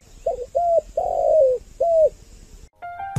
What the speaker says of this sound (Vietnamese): Yêu sao tiếng gáy chim cu